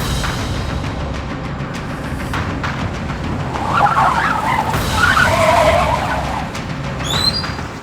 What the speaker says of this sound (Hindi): अचानक से एक कार ने मेरी बाइक को ओवरटेक किया